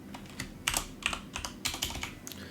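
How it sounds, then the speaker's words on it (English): Typing on a computer keyboard while working in Unreal Engine 5 materials, heard as a quick run of close, crisp key clicks in irregular bursts with no talking. "you're going to type in UV tiling"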